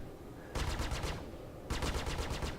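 Rapid-fire bursts of ship guns in Star Citizen, two sustained volleys of fast, evenly spaced shots with a short gap between, over a constant engine drone.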